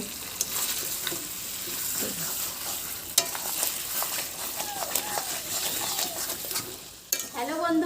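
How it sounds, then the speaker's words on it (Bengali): Fried potatoes are stir-fried in a pan, with a continuous sizzle broken by scraping strokes of a spatula and a few louder clinks. Background voices are faintly audible now and then. "চলো এবার ভালো করে একটু কষিয়ে নিই"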